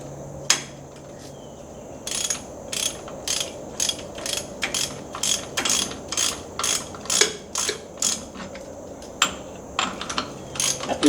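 Piston rod packing being tightened down on a Vulcan steam train, a series of sharp metallic ratchet clicks repeating at a steady rhythm up close, with a faint background hum.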